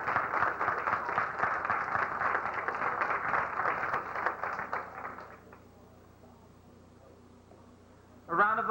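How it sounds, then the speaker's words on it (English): At a 1991 celebrity gala, an audience applauds award recipients with a dense, sustained wash of clapping. It fades away after about five seconds into quiet room tone, and then a voice begins speaking. "A round of applause for all our recipients"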